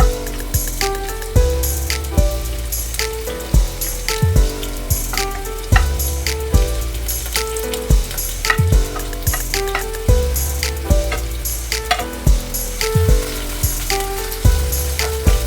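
Chopped ingredients sizzle steadily in hot coconut oil for a king fish roe dish, with frequent clinks and scrapes of a spoon stirring the pan; no voices.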